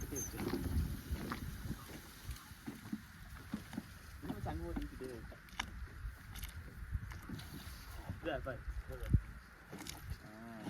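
Boat ride on a village pond at Odathurai near Gobichettipalayam, Erode: water sloshing and wind buffeting the microphone throughout, with several people chatting and calling out over it.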